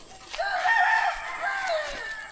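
A rooster crows once, a long drawn-out cock-a-doodle-doo, fairly close, with faint background noise around it.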